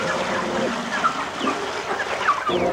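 Several chickens cluck and murmur nearby, overlapping soft clucks and short squawks in a steady flock chatter.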